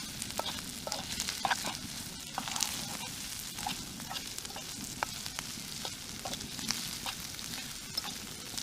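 Food sizzles and frying crackles steadily in a pan being stirred while cooking on the ground outdoors at a camp, with scattered clicks and scrapes from the stirring throughout.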